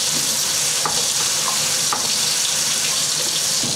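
Hot water pours into a 2-gallon garden sprayer, a steady hissing gush with a few faint clicks and knocks, close and continuous from start to finish.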